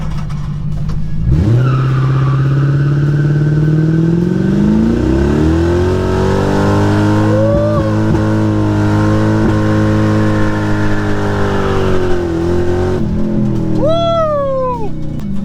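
A Subaru burnout car with low tire pressure revs hard, its engine note sweeping up and holding at a loud, sustained howl while the tires spin, with squealing chirps near the end; close and very loud, with no talking.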